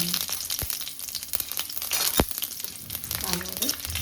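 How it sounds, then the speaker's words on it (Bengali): Panch phoron, dry chillies, whole garam masala and bay leaves frying in hot oil for a Bengali dalna, with a dense crackling sizzle and a few scraping stirs and knocks, close and steady. "ভালোভাবে ফোড়নটা ভেজে নিচ্ছি"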